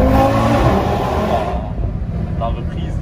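Audi RS3 with modified intake accelerating hard, a loud engine roar that fades after a moment into quieter cabin rumble with a few faint crackles, and voices in the car talking faintly.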